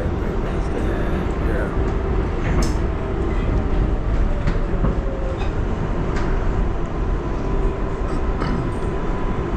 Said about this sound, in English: Main Street bound 7 local train